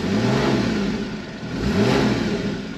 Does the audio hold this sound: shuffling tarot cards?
no